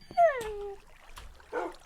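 Minecraft puppies whimper in the video game with a high, falling whine and a thin yip, followed by a softer, muffled whimper a moment later, close and clear with no talking.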